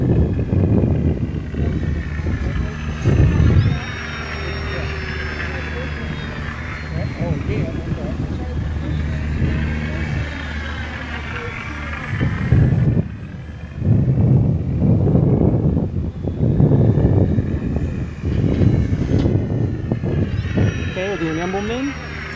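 A 1100 mm Arrows RC F8F Bearcat model airplane performs aerobatics, its electric motor buzzing in a whine that rises and falls as it loops and passes. Someone talks throughout over the motor sound.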